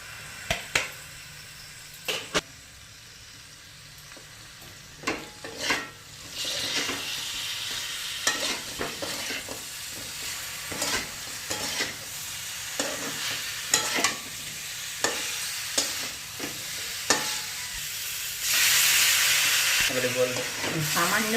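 Chicken jalfrezi stir-frying in a pan with green capsicum, yellow bell pepper and onion: a steady sizzle broken by repeated scraping stirs of the spatula, with occasional speech.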